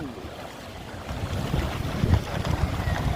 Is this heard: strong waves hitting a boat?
yes